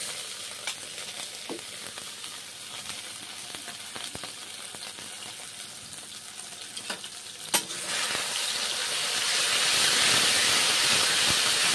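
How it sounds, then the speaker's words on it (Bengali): Spice paste fries in mustard oil under a steady hiss, with sharp clicks of stirring scattered through it. The sizzle swells louder and fuller in the last few seconds. "মশলা ভেজে নিচ্ছি সর্ষের তেল দিয়ে।"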